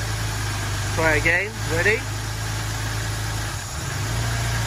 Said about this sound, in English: if I simply unplug it with the engine running, push that down, you can hear the change in the engine.